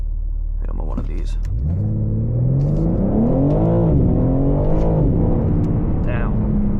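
BMW G80 M3 xDrive Competition accelerating hard from a roll: deep, loud engine rumble climbing steadily in pitch through the rev range, with a brief dip as it shifts, heard from inside with a faint voice early on.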